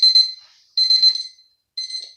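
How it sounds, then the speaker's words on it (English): An alarm clock rings at 7 a.m. in three bursts of rapid, shrill, high beeping, each about half a second long and separated by short gaps, loud and close with no one talking. "Don't you just hate alarm clocks?"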